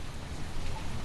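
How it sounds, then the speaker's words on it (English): Steady heavy rain pours down in a windswept storm over the South Bay, a loud, continuous dense hiss with no voices. "the constant battering of rain and wind has proven to be bittersweet"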